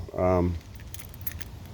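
Original 1972 Toyota factory keys for an FJ40 jangle in a brief, light metallic rattle, close by, following a short voiced sound at the start.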